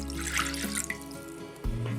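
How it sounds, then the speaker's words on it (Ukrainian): Warm water pours steadily for a couple of seconds, splashing softly, with faint background music and no talking, being added for a fish pie dough. "Для тіста беремо півтори склянки теплої води."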